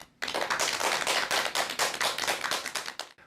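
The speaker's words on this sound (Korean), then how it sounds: "여러분 큰 박수 부탁드립니다." A lecture-hall audience breaks into steady, dense applause from many hands, loud and close, running for about three seconds before stopping abruptly.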